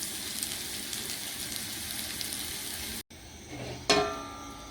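Round-cut onion slices hit a hot frying pan that has just held vegetables, setting off a steady hiss of sizzling and frying, then a sharp burst of crackling spatter that slowly settles.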